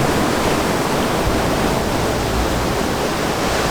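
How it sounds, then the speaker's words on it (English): Sea waves near a bridge at Porto Novo, Tamil Nadu, a loud, steady broadband roar of surf with no clear breaks between crashes and no voices. "so this is the sea now."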